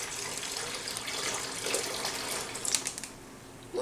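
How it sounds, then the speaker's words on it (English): Curing brine solution poured into gallon bags of pork chops, a steady splashing liquid gush lasting several seconds at close range, with no talk over it. "now I'm just going to pour half the solution in each bag"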